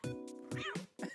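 A cat meows in a Nintendo Pokémon Legends Z-A game, several short tonal electronic mews in quick succession, clean and fairly quiet with no talk over them.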